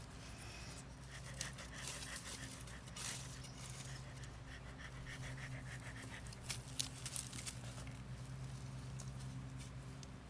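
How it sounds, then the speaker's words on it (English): A small dog pants softly and rhythmically nearby during garden work in a butterfly habitat, faint against a low background hum, with occasional light rustles and taps. "If you hear panting, it's my little assistant here with me."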